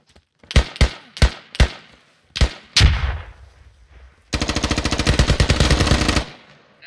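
Gunfire in the military shooter Squad: five or six loud single shots, one with a rolling echo, then a sustained, rapid machine-gun burst of about two seconds that stops abruptly.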